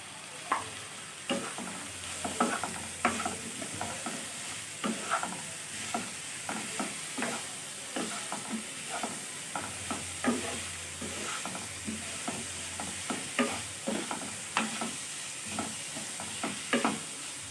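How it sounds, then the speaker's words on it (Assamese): Masoor dal with salt fries in a pan for an Assamese fish curry, a soft steady sizzle broken by frequent rhythmic scraping strokes of a spoon stirring the lentils. "এইখিনি মই ভালদৰে ভাজি ল'ম।"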